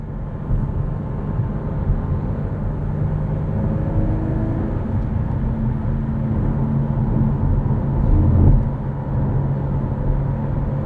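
Flat-six engine of a 2020 Porsche 718 Cayman GT4 with a six-speed manual, heard from inside while driving: a steady, loud low drone with road rumble, swelling briefly near the end.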